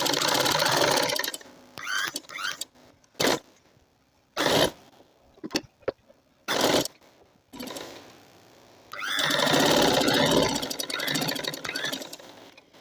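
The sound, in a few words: sewing machine stitching a palazzo pant with elastic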